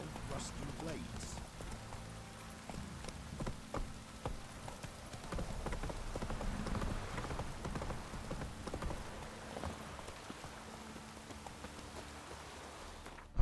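Rain falls steadily in the video game Witcher 3, a faint, continuous patter with the quiet clip-clop of horse hooves mixed in throughout.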